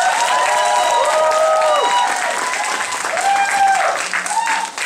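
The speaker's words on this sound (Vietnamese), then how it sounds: "Cho các anh chị một tràng vỗ tay thêm nữa." Audience applause at a Vietnamese-language breakout session, dense steady clapping filling the whole stretch, with cheering and a voice calling out over it partway through.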